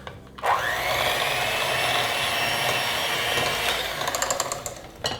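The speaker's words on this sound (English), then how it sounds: "And then with a mixer, or you could use your whisk, I'm gonna cream these together." A handheld electric mixer creams butter with granulated sugar for chocolate banana bread, a steady loud whirring drone that runs continuously for several seconds before shutting off with a brief clatter at the end.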